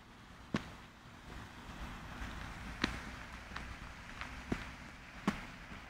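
Footsteps on the ice of a frozen-over fountain, a series of faint crisp cracks and crunches at uneven intervals over a soft outdoor hiss.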